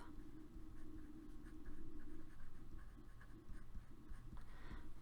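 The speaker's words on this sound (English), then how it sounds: "I have room, so I'm going to write a sentence for this one." A pen or marker scratching across a writing surface during a statistics lecture, heard as quiet, continuous scribbling strokes with soft rhythmic texture and no talk over it.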